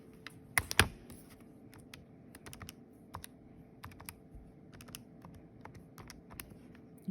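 Quick keystrokes tapped into a calculator while entering a cosine division problem, a dense burst near the start then scattered clicks at an uneven pace, close and fairly quiet against a faint room hum with no talking.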